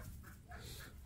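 A brief burst of close, soft chicken clucking, a few quick throaty notes from the birds.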